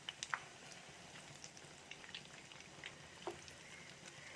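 Food fries in hot oil with a faint, steady sizzle and occasional soft pops and crackles, quiet and continuous throughout.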